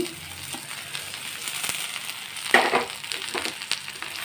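Tomatoes added to frying onions in a pan set up a continuous close hiss and sizzle, swelling into a louder crackling burst midway before settling back to a steady fry, with no voices.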